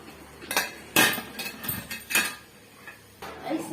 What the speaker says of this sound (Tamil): இப்ப இந்த இட்லி தட்டை நம்ம எடுத்துடலாங்க